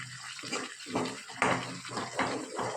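Water is poured into a cooking pan of spicy tomato and curry-leaf gravy, a continuous splashing and gurgling pour with a few surging swells, close by and alone.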